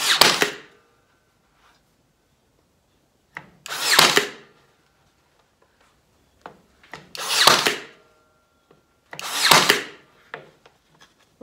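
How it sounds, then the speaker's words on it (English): Four sharp, loud bursts of a small pneumatic nailer firing nails to join wood pieces, spaced a few seconds apart with quiet gaps and small clicks between. "I'm going to use my little nailer and just kind of nail these pieces together"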